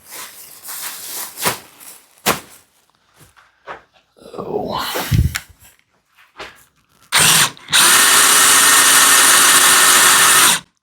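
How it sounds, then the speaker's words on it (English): A power drill whirs loudly and steadily for several seconds near the end as it raises a storage lift in a small garage, after scattered clunks, rattles and handling noises. "Raising this with the drill is my absolute favorite part of this because it's so easy and quick."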